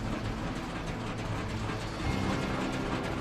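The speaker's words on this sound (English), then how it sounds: "You start twine wrapping with a touch of a button." Twine wrapping mechanism on a 2020 Krone Bellima 130D round baler running steadily, a continuous close mechanical clatter with ratcheting, gear-like ticking and a slight surge in loudness partway through.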